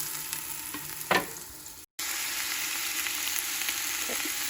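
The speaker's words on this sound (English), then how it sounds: "I'm also going to add in my carrots and my celery in with my onions." Chopped onion, carrots and celery sizzle in a pot as chicken soup gets started, a steady close frying hiss with one brief louder stir and a momentary dropout, no talk.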